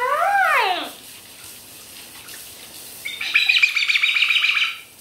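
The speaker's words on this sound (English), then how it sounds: "Do you listen to a bird screaming while you're cooking?" A pet bird gives loud, harsh screaming calls that rise and fall in quick sweeps, a short burst followed by a pause and then a longer, buzzy stretch of shrill squawking close to the microphone.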